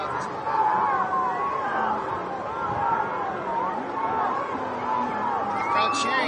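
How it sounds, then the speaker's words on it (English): Spectators at a canoe paddling finals race, a continuous murmur of crowd chatter with scattered calls and cheers at moderate distance, under a commentator's talk. "The crowd cheering."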